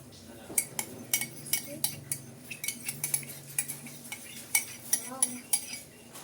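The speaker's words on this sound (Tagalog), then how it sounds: "Ilagay na rin po natin ang all-purpose cream." Metal utensils scrape and clink against a pan while all-purpose cream is added to carbonara, giving a steady run of sharp taps and stirring scrapes at close range, with faint speech in the background.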